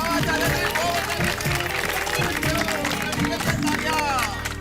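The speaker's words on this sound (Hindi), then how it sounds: "सब अपने लिए जोरदार ताली बजाइए।" Residents of the Gokuldham society in the Taarak Mehta Ka Ooltah Chashma comedy series applaud together, a steady loud wash of clapping with crowd noise and voices mixed in.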